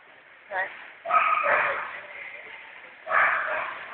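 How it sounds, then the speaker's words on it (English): Bullmastiff puppies give short yips and barks in a few close bursts, with people talking over and between them. "You want to see these puppies?"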